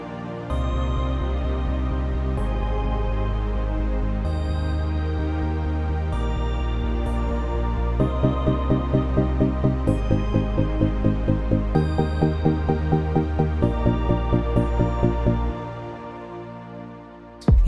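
An LMMS-produced beat carries a sustained string chord preset joined by a driving eighth-note chord pulse partway through, the repeated chords steady and loud before the pattern drops away near the end.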